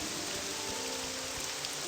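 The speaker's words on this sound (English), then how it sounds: "And it's still raining. Damn rain." Rain falls steadily in the video game Morrowind, a constant soft hiss of drops with no breaks and no speech, faint and even throughout.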